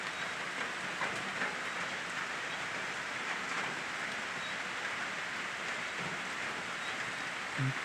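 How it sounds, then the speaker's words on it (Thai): Steady, dense rainfall pours down in rural Isan, northeastern Thailand, a continuous even hiss with no talking and only a faint thump near the end. "บรรยากาศฝนตก"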